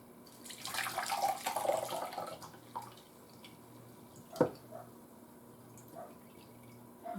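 Broth draining off simmered soup vegetables into a jar, a pouring trickle for a couple of seconds, then scattered drips and a single clunk in a quiet kitchen.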